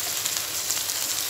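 Chopped tomatoes added to softened onions frying in oil for an ennai kathirikkai kulambu, a steady hissing sizzle with faint crackles, moderately loud and continuous with no talk.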